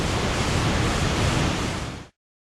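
Steady broadband roar of the Cascada La Paila waterfall in Florian, Colombia, loud and continuous at close range, cutting off abruptly near the end.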